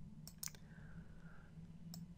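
A computer mouse clicks several times in the Scratch editor, a few quick, crisp, close clicks over a low background hum.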